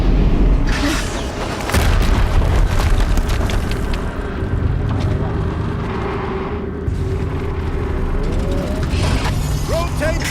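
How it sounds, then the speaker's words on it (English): Explosions and heavy booming blasts in the video game Horizon Zero Dawn, loud and sustained with mechanical clanking and rumbling layered throughout, while a voice talks over the din. "Another explosion."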